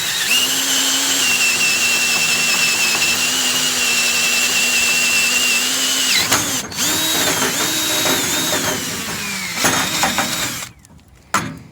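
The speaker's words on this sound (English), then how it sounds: "I'm going to drill a hole for this big bolt here. I'm going to use my paddle bit." A power drill fitted with a 5/8-inch paddle bit bores through two stacked 2x4s, a loud, steady high whine under load for about six seconds, then wavering bursts as the motor bogs and revs before it stops.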